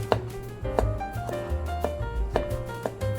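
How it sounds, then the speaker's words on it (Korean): A knife slices garlic on a cutting board with a series of crisp, evenly spaced taps, close and distinct, roughly five cuts over three seconds, with no voices. "그리고 저는 마늘은 향으로 썰고"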